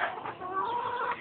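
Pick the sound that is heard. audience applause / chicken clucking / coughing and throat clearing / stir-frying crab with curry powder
chicken clucking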